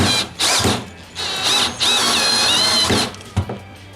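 A power drill drives a screw into wood at a woodworking bench, whining in several bursts of varying length with short pauses between, close and loud.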